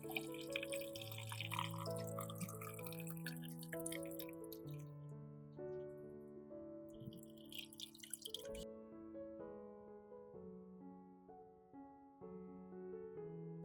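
Boiling water pours from a kettle over tomatoes in a 1.5-liter glass jar, a steady close splashing stream whose tone shifts as the jar fills, ending in quieter trickling and drips.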